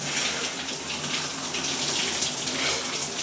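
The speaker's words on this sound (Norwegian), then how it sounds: "Fersk kald dusj, da." Cold shower water pouring steadily, a loud, continuous rushing spray close by, alone with no talking.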